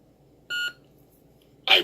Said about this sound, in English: Hold down for 2 beeps.